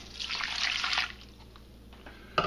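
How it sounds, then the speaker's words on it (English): A cup of water is poured into a pan of vegetables for a vegan beef stew, a close splashing trickle for about a second that fades to quiet, then a brief clatter at the end. "We want to add 1 cup of water."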